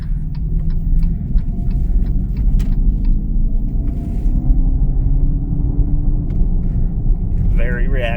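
Dodge Charger Daytona Scat Pack EV, a dual-motor all-wheel-drive electric car, driving along with a steady low road rumble, faint ticking indicator clicks and a rising motor whine, while someone talks over it.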